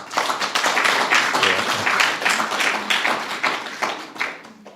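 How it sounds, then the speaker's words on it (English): An audience at an arts, poetry and music celebration claps for a speaker. The close, dense applause keeps an uneven rhythm for several seconds and eases slightly toward the end. "a round of applause to Amina"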